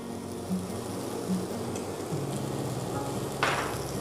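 Chilli chana seasoned with sugar and pepper powder being mixed in a pan, a soft steady sizzle with low hum and a brief scraping swish toward the end, fairly quiet and without speech.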